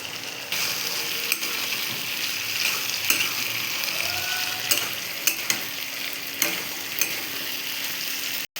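Chicken pieces frying for chilli chicken crackle and sizzle steadily in a hot pan, close and continuous, broken by a few sharp clinks and scrapes of a utensil stirring against the metal; no voices.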